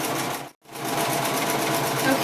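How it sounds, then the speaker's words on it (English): A sewing machine stitches a fabric challah cover, running in a fast continuous whir with a brief pause near the start before it resumes. "I'm going to sew 1/4 inch around the entire perimeter."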